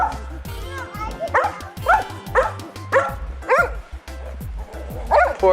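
A dog yips, barks and whimpers in a string of short high calls, close and loud, with a voice heard among them.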